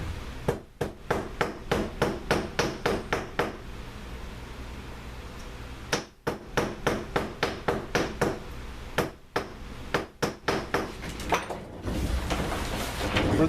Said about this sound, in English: I'm going to take it over and hammer it flat